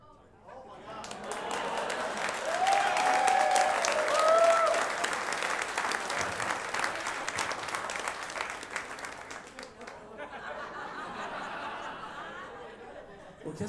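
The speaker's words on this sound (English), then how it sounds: "Clap loudly, but only clap if you think I look like someone famous." A comedy club audience breaks into sustained applause mixed with laughter, building loudly in the first seconds and then thinning out, while a voice talks over the tail end.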